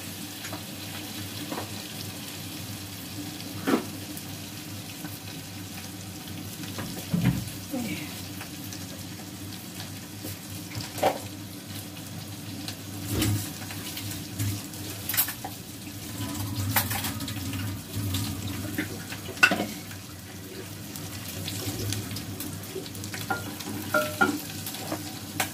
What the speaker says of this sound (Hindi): लहसुन अदरक भून रहा है साथ में।